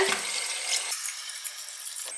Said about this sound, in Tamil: இப்போ இந்த தண்ணியை குக்கர்லேயே ஊற்றிடலாங்க.